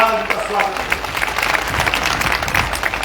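Applause from a crowd greeting Avtar Singh Bhadana at a political gathering in Sherghar, Mathura, steady and dense clapping across the whole stretch with no break.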